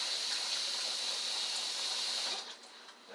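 Tap water runs steadily into a pot in a home kitchen, a continuous close hiss and splash that dips briefly near the end, with no talking.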